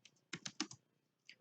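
Typing on a computer keyboard while entering a static route on a Cisco router: a quick burst of four or five crisp keystrokes, a pause, then a single later tap, close and fairly quiet.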